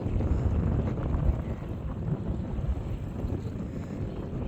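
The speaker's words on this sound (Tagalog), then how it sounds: "napakalakas pa rin ang hangin mula kahapon" Strong wind buffets the microphone while fishing, a low, rumbling roar that gusts unevenly and never lets up.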